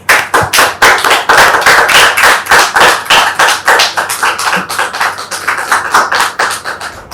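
A studio audience claps to welcome a guest onto a TV show, loud rhythmic unison clapping in steady beats of roughly three per second that continues throughout.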